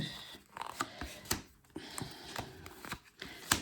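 Six tarot cards dealt out one after another, each landing with a crisp slap or flick in an uneven rhythm, close and fairly quiet.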